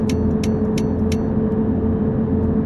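A Mercedes-Benz bus drives along in Bus Simulator, a steady droning engine hum with a few quick, bright ticking clicks near the start before it settles into an even rumble.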